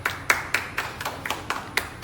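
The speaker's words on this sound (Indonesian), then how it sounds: "Nah, tepuk tangan buat Arafat." Classroom students clapping for a classmate after a presentation, a few hands in a quick, evenly spaced rhythm of about eight claps, fairly soft and close.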